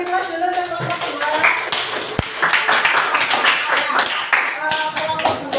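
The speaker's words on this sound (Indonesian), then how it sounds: "Kita beri aplaus dulu untuk kelompok 2" Classroom applause for a student group, a dense patter of many hands clapping steadily throughout, with a voice talking over it.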